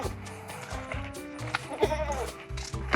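Goats on a cabin homestead bleat loudly and close by, several overlapping calls in quick succession at feeding time, some wavering and drawn out, with no talk over them.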